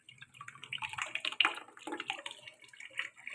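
Water from a small pump motor splashes and trickles into a bucket for a homemade air conditioner, close and fairly quiet, in uneven gurgling bursts.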